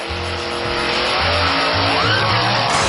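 A drag racing dragster's engine roars loudly and continuously while its tires squeal, with no voices.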